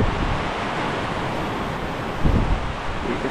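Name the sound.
heavy rain with wind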